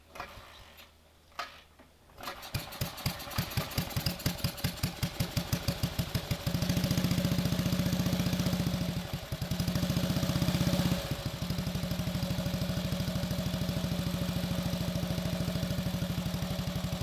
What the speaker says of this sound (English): here's our first attempt at firing up this old girl.